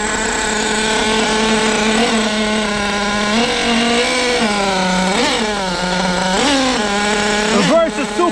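Nitro engine, an OS 21, running in a restored Traxxas T-Maxx RC truck: a loud, steady high-pitched buzz close by, with several quick revs that rise and fall and a sharper blip near the end.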